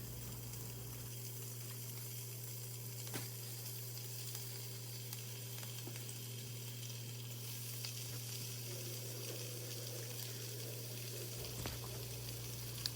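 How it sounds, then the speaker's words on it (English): Two slices of bacon fry with onion and mushrooms in a pan, a faint even sizzle with a low steady hum underneath and a few soft clicks, no voices. "we're gonna take a break here and throw some bacon in with our onion and our mushrooms"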